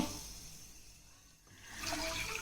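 Water pours and rushes steadily into a pot, briefly easing off midway before gushing louder again; no voices.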